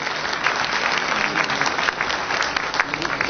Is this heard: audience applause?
yes